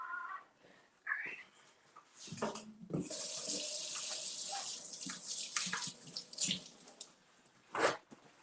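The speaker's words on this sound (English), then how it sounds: "And then we're gonna wash our hands as well." Kitchen tap runs steadily while hands are washed beneath it, a broad rushing stream for several seconds with clattering and short bursts of nearby activity before and after.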